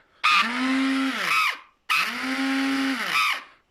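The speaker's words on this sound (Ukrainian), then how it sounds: "Знову беремо блендер" A kitchen blender running on a 1000VA UPS with a 45Ah AGM battery and pure sine output whirs loudly in two bursts of about a second and a half each, rising and winding down, with a short pause between.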